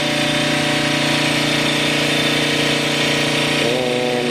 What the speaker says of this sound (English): Getting the rods resized right now.